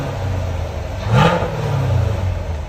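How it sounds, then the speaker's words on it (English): A 2021 Chevy Camaro with the LT1 6.2L V8 and stock dual exhaust gives one short rev that swells and settles back over a steady low engine rumble, close and fairly loud. "Chevy Camaro LT1. This is what it sounds like before."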